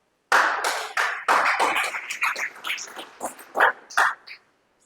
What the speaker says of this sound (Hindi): ताली मारो बच्चे के लिए, बहुत बढ़िया।